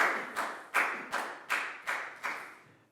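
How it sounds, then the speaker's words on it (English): Seven sharp, evenly spaced claps ring out close by in a classroom, each followed by a short decay, with no talk. "big round of applause for Lakau"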